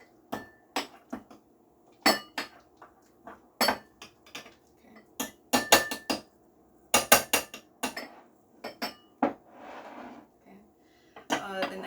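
Two bananas being mashed with a masher in a bowl for banana muffins: irregular knocking clinks of the utensil striking the bowl, close by, in uneven bursts with pauses, with a voice talking intermittently between strikes.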